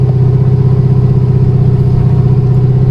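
Modified 940 hp ZL1 Camaro engine idling and rolling in first gear, a loud, steady, deep rumble with dense low-end pulsing, continuous and close with no talk.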